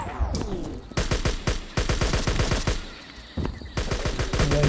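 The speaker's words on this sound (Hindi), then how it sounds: "ये मशीन गन से मार रहे" Bursts of rapid machine gun fire in a Hindi-commentary shooter video game, loud repeated volleys with short gaps between them.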